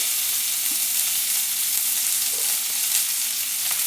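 Chopped onions sizzle in hot oil in a pan, frying for a Bengali water lily stem (shapla) fry: a steady, close, even crackle that runs throughout with small spits and no voices.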